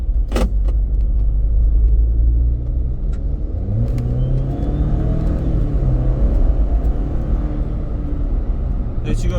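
A Jeep Wrangler Rubicon's engine rumbles and rises in pitch as the car accelerates to about 60 km/h, a steady close interior drone, with speech faintly present.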